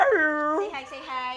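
A husky whimpers and whines in a high, wavering, drawn-out cry, close and fairly loud, with a second rising whine following after a brief dip.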